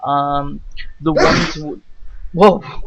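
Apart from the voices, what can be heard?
sneeze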